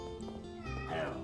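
A cat meows once, short and faint, over a low steady background hum.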